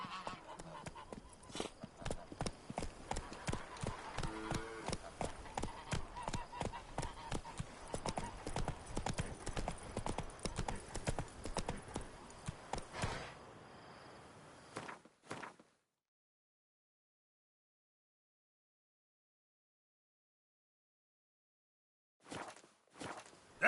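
Steady clip-clop of the horse Roach's hooves walking in The Witcher 3, a continuous rhythmic gait for about fifteen seconds, then silence with a brief sound near the end.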